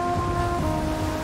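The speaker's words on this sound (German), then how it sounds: "Man wird hier wirklich über die Wellen rübergeprügelt." A boat from the game Valheim pounding through rough ocean waves in a storm, a continuous loud rush of surf and wind with a faint steady tone underneath.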